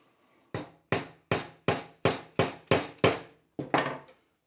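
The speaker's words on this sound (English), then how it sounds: "I have to hammer this down a little bit" Nine sharp hammer strikes on a brass tube near its bend ring out in a steady rhythm, each one a bright metallic clang that decays quickly, with a short pause before the last two.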